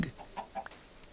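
A video game chicken clucks a few times in quick, soft bursts while laying an egg, with quiet background sounds.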